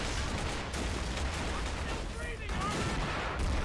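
Continuous dense artillery fire rumbles through a toy army men battle video game, a loud layered barrage of booms and crackling blasts with no pauses, and a voice speaks faintly beneath it.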